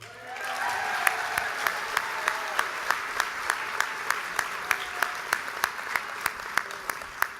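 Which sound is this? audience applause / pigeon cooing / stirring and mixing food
audience applause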